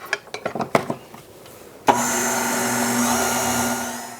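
An electric mixer whirs steadily for a couple of seconds, blending granulated sugar, baking soda and salt, after a run of soft clicks and taps.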